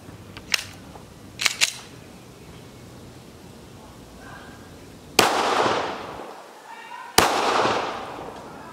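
9mm gunshots fired at a MILITECH level 4 ballistic plate, two sharp, loud cracks with echoing tails a couple of seconds apart, preceded by faint clicks and pops.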